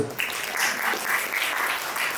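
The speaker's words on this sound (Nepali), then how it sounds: "सबैलाई उहाँहरूको यो प्रयासको लागि चाहिँ ताली बजाउन पनि आग्रह गर्न चाहन्छु।" An audience claps at a welcome and farewell programme in Nepal, a dense, sustained round of applause filling the whole moment with no voices over it.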